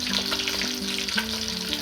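Fish frying in hot oil during home cooking gives a steady, fairly soft sizzle and crackle with a faint tonal hum underneath, continuous throughout.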